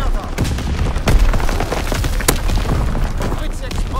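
Artillery strike explosions from the video game Call of Duty: WWII thud and boom in rapid succession, with sharp blasts and rumbling impacts layered over each other, loud and close throughout.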